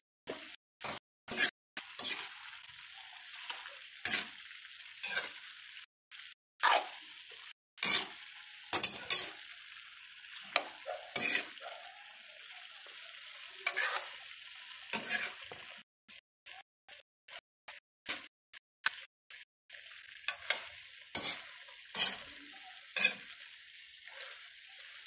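A pork bouillon cube melts in a hot pan with butter for chopsuey, a soft steady sizzle broken by repeated scraping and clinking of a spoon or spatula stirring against the pan, close up with no talk.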